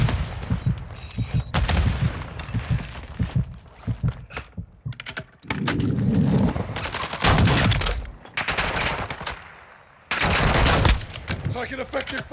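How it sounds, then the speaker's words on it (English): Gunfire bursts in Call of Duty DMZ, loud rapid volleys and single shots recurring in clusters across the clip, with brief lulls between heavy bursts. "Taking effective fire!"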